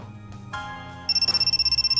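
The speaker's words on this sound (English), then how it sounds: "Oh, phone." A phone rings in a visual novel video game, starting with a brief electronic chime and then settling into a rapid, loud, trilling ring that pulses steadily.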